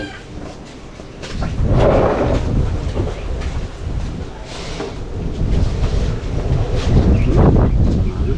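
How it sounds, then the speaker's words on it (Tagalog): Strong wind buffets the microphone in a steady, rumbling roar, with faint background noises mixed in and no clear speech. "Ang lakas ang hangin."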